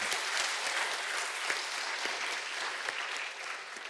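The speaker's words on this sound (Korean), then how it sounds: "우리 감사와 격려의 박수 한번 드리겠습니다." A church congregation at a Sunday service gives a steady round of applause, with dense clapping held at an even level through the whole stretch and no talk over it.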